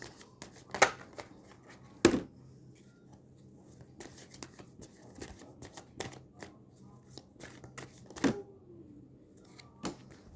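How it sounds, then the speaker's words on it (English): Tarot cards are shuffled and snapped in a series of crisp riffles and taps, with sharp louder slaps now and then in a quiet room. "let us try and shuffle and pick more cards"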